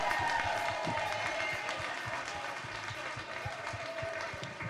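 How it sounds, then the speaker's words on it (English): Audience applause at a live stage performance, a steady wash of clapping from a crowd mixed with some cheering and faint voices, moderately loud and fading slightly. "Give yourselves a round of applause."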